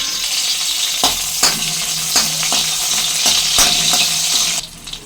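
Green chilies fry in hot oil with cumin seeds, a steady close hiss of sizzling broken by sharp crackles and spits, easing off near the end.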